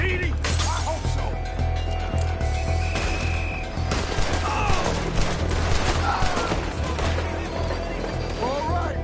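Gunfire rattles through a Red Dead Redemption 2 shootout in city streets near a trolley, with dense overlapping shots and crashes under almost constant shouted character dialogue.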